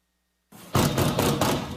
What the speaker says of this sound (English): You can hear the sense of urgency in those door knocks.